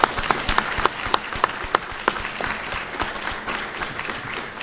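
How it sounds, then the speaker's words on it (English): Applause from an audience at an Army change of command ceremony at Fort Sam Houston, a steady patter of many hands clapping that starts strong and slowly tapers off, close and without speech. "Let's give her a round of applause."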